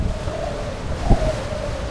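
Wind gusts across a mountain trail during a climb, buffeting the microphone with a loud, steady low roar and one brief thump.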